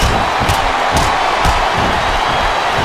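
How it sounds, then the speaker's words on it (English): A packed arena crowd in WWE SmackDown vs Raw 2007 on Xbox 360, during a Mickie James vs Trish Stratus match, keeps up a steady, loud roar of cheering, with a few sharper bursts rising out of it. "This capacity crowd is making their appearance."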